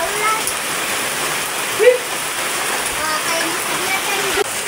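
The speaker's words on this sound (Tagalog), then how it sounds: "Naabutan kami ng ulan." Heavy rain falling outdoors in a barangay, a dense continuous hiss and patter with a couple of brief louder knocks, voices faintly present beneath.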